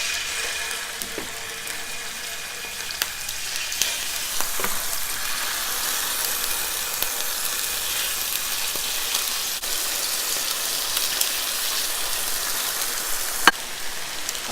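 Six chicken breasts cooking in a tablespoon of olive oil in an electric frying pan, giving a steady, close crackling sizzle with scattered pops throughout and no talk.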